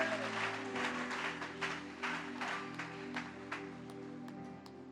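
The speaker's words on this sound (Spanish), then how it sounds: "Dale un aplauso poderoso a Cristo." Congregation applause during a Sunday church service, a scattered burst of clapping over a sustained musical drone that thins into a few isolated claps.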